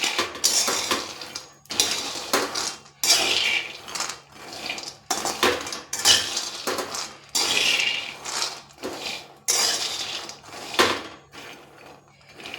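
Roasted peanuts being stirred in a metal pan with the gas turned off, repeated bursts of scraping and rattling in an uneven rhythm, close and fairly loud.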